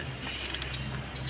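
A ratchet wrench fitted with a 24 mm socket, used during oil-change maintenance on a 2025 Kia Sonet, gives a short burst of four or five quick clicks over a low background hum.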